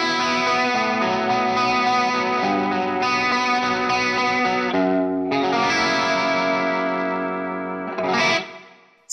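Electric guitar played through a Collateral FX Demoiselle chorus pedal, sustained chords with a lush, wobbling modulated shimmer, loud and alone, a brief break near the middle and a final strummed swell.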